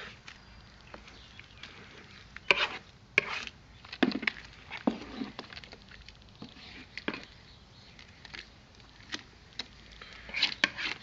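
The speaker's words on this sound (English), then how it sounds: "I'm going to keep stirring this up a little bit longer and just make sure all the dough balls are gone" Brewing mash of two-row malt stirred to break up dough balls for a SMaSH beer, producing irregular wet knocks and thick sloshing taps close by with quiet pauses in between.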